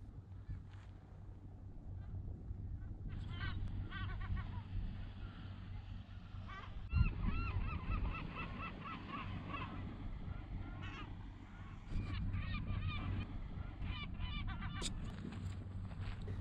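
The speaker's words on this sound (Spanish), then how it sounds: "en el cielo, las gaviotas no paraban de jugar" Seagulls call over Lake Baikal in repeated bursts of sharp cries, fairly distant, above a steady low rumble of water and a small boat.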